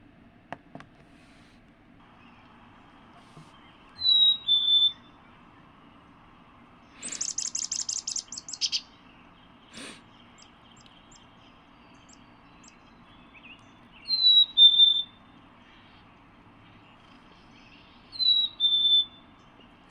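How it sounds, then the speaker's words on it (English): Chickadee song from a Vermont bird recording: several short, clear whistled phrases spread across the stretch, plus one brief burst of rapid chirps and a faint click, over quiet background hiss. "Here's the chickadee."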